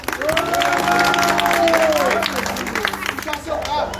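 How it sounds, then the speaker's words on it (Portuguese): Family members applaud at a birthday party for an uncle and for Leandro in Guarulhos, a steady burst of clapping lasting several seconds with excited voices calling out over it, fading slightly toward the end. "Uma salva de palmas, pessoal."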